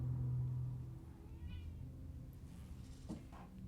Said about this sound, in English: Do you want to meow into the mic for everybody?